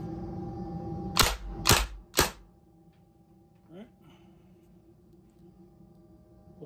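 Three sharp, loud shots from a TMC Homedefender airgun in quick succession, each a crisp crack with a short decay, then quieter handling sounds.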